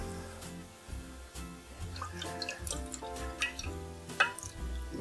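Half a can of water is poured from the can into a mixing bowl while cooking a Christmas dinner, giving soft, close gurgles and drips over a low background.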